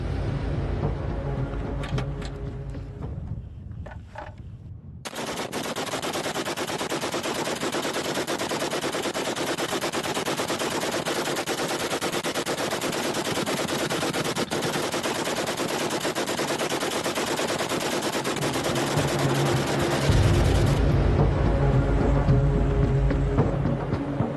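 A machine gun fires in a long, continuous rapid burst, loud and close, dense rattling shots lasting many seconds over engine-like rumble.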